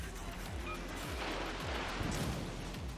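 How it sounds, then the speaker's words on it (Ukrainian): Heavy naval guns from the USS New Mexico battleship in World of Warships Legends boom over a constant dense roar, the low blasts rumbling and overlapping in quick succession. "От, стріляє вже по нас Нью-Мексико."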